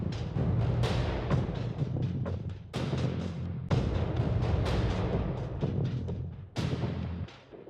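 Warped percussion with delay on the drums, in a cinematic piece: loud, close hits in an uneven rhythm, each smearing into echoing tails that pile up without pause.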